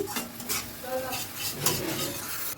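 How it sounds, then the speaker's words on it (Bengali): Spice masala with soy sauce being stirred continuously in a pan for a fish fry dish, a steady scraping and clinking of utensil on metal over a soft sizzle, close and moderately loud. "অনবরত নাড়াচাড়া করে নিচ্ছি"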